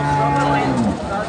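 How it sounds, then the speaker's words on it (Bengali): Close, loud moo from a large cow at a cattle market where dairy cows are for sale, one long bellow that slides downward and cuts off abruptly, with market bustle behind it. "দেখেন আপনারা গরুগুলো দেখেন"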